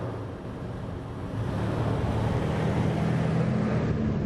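Loud interior drone of a 2022 Toyota 4Runner TRD Pro being driven on the road, a steady low rumble mixed with road and wind noise that grows a little heavier after the first second.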